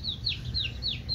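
A chicken calls in a run of repeated, sharp chirping notes, about five in quick succession, close by over a low background hum.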